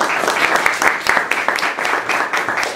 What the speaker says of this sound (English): I will ask that you hold your applause until we are done with each of the various races